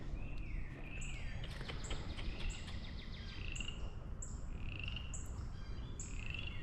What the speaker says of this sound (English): Hear the frogs back there croaking.